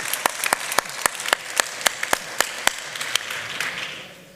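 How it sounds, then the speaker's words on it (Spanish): Audience applause at a talk on aggregates and industrial rocks and minerals, led by loud, evenly spaced close claps over a softer bed of scattered clapping that thins out toward the end. "Pues te vas a ganar un aplauso."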